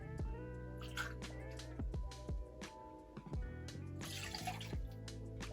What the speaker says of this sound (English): And 2 ounces of a reposado tequila.